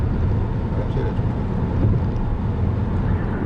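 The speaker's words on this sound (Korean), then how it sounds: "바람 소리는 많이 들리네요" Wind noise rushes inside a moving Volvo Cross Country D5 AWD crossover, a constant low roar of air and road rumble with no speech over it.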